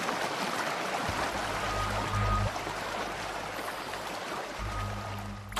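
Flowing water in Gorilla Tag, a steady broadband rushing wash that keeps going under brief low tonal game sounds, moderately loud and close.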